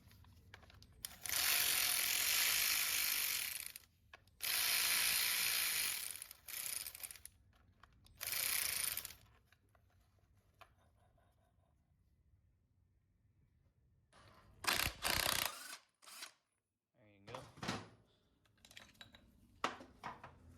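Ratchet with a 7/16 socket backing out a primary bolt on a classic Harley-Davidson Softail, heard as long bursts of rapid, close, loud clicking, then quieter handling and metallic clatter.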